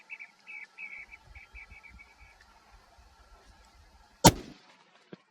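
A 6.5mm rifle shot fired at big game cracks loud and sharp near the end, followed by a short faint echo; quiet breathy activity and faint low thumps come before it, with no talking.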